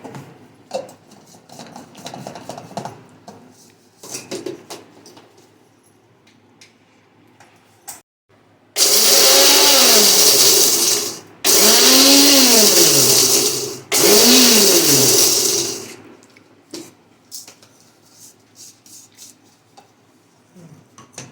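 A mixer grinder grinds spice masala for mango pickle in three loud bursts of about three, two and two seconds, each winding up and down, separated by brief pauses, with quiet kitchen handling noises before and after.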